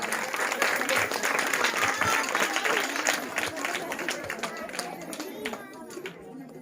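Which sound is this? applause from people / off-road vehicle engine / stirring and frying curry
applause from people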